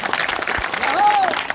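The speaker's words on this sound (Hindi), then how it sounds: "ताली बजाओ।" A crowd at a BJP workers' meeting claps in a dense, continuous wash of applause, with a voice speaking over it.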